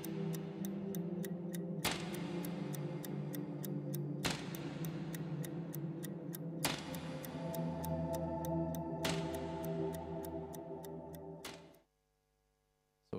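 Clock-filled video game level ambience: steady, evenly spaced ticking over layered sustained musical drones, with periodic louder chime-like strikes every couple of seconds, fading out abruptly near the end.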